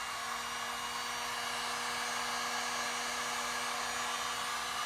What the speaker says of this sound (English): The heat gun pushes the resin around.